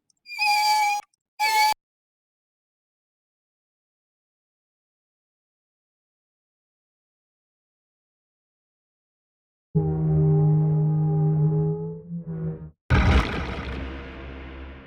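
A creature sound effect built from a high-sample-rate recording pitched down 26 semitones: a few short wavering cat-like cries, then after a long silence a deep sustained growl-like moan and a final harsh noisy burst, loud and close.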